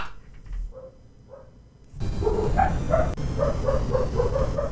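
A dog barks repeatedly in quick, yappy bursts, close and loud, after a quieter stretch with a few faint whimpers.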